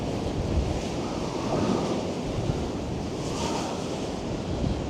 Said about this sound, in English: And just look at the huge waves.